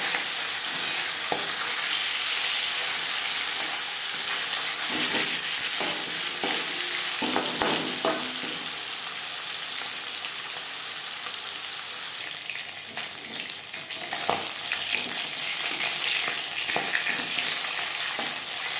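Silver carp pieces fry in a hot pan, giving a continuous loud sizzle with intermittent scraping and stirring clatter, and a fiercer burst of spitting partway through.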